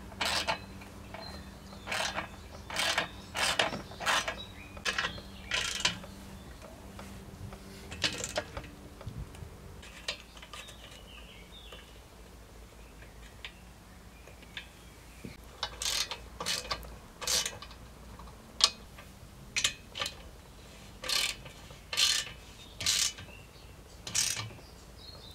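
Ratchet tightening the engine mounting bolts on a Yamaha YZ250 dirt bike during restoration, heard as bursts of rapid clicking strokes separated by pauses, close and fairly quiet with no talking.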